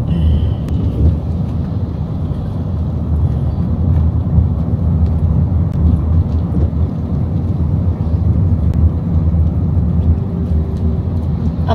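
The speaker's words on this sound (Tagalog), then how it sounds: "Ngayon, na lower na yung rain." Steady rain falls continuously outdoors as a downpour eases off, a dense, even rushing wash with a deep rumbling undertone, with no talking.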